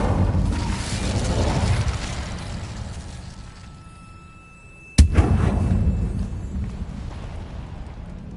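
A fire spell is cast in the video game Hogwarts Legacy, setting off a single sharp, loud blast about midway that follows a fading rumble of battle effects and is trailed by roaring noise afterward.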